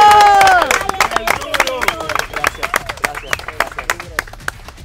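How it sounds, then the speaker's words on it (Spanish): Audience clapping and cheering for a doctor with a fencing team after a historic gold medal in San Salvador, starting under a voice and continuing as scattered, uneven claps with crowd noise. "Hay un doctor que hay que darle un aplauso."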